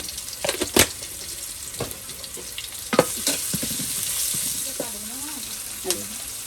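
Onions fry in a pan with a bright continuous sizzle, punctuated by scattered clinks and scrapes of stirring; a voice speaks briefly near the end.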